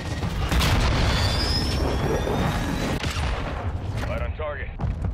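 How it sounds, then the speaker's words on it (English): A cruise missile explosion in the video game Call of Duty: Modern Warfare II, a loud sustained roaring boom and rumble under radio voice chatter, with gunfire crackling and the blast tailing off near the end. "Trojan 6-2, cruise missile inbound."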